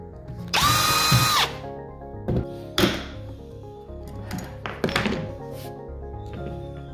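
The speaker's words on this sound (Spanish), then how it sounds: "empezaré haciendo el primer agujero. Para eso voy a utilizar el taladro y este bloque espaciador" A power drill bores holes in wood for a bathroom cabinet, with a loud whirring burst followed by several short thunks and knocks of the wood block and workpiece, close up, with no speech.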